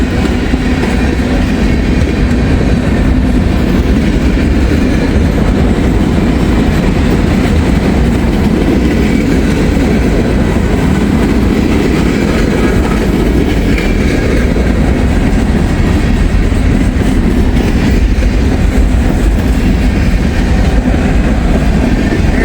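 A train rolls steadily along the tracks, a loud continuous rumble with rhythmic rattling of wheels on rails, heard from on board or close by.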